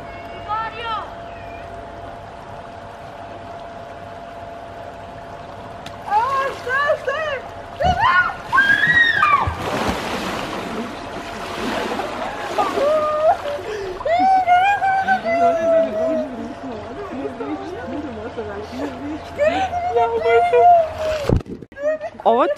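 A person tipped into water at midnight, with loud splashing and sloshing in the middle, surrounded by excited voices and shrieks of several people talking and laughing.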